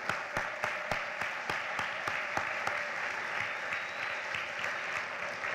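A crowd claps at a high school service project fair, soft steady applause with distinct individual claps ringing out in a regular pulse over the general patter.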